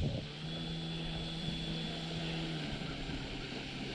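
A Hangar 9 Valiant 10cc RC airplane taxis on the ground, its small gas engine giving a steady, continuous buzzing drone at moderate distance with no pauses, heard alone without voices.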